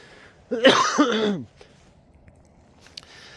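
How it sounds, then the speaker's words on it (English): A single close, raspy cough with a throaty catch lasts about a second, followed by near silence and a couple of faint clicks. "Coughing. It's a cough that has been going on for a while."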